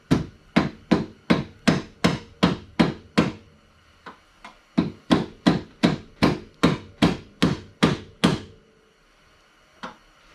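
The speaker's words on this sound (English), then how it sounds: "I got the mallet, and we're just going to give it a little tap" A mallet taps repeatedly on an SRT-4 engine mount, about twenty sharp, close knocks in a quick, even rhythm, with a short pause partway through and one last knock at the end.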